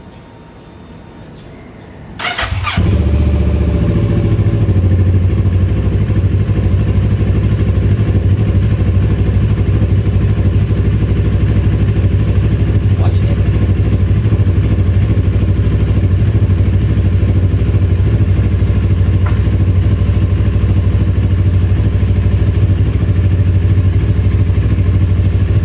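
Motorcycle fitted with new handlebars starts with a sharp crank after a couple of seconds of quiet, then idles loudly and steadily up close, a low throbbing engine note continuing to the end.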